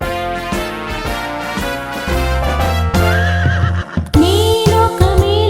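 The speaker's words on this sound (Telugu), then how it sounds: "నేనొక మేలుజాతి గుర్రం" A horse in an animated animal rhyme gives a loud, shrill whinny over a bouncy musical backing with clip-clop hoofbeats, the neigh rising clearly near the end.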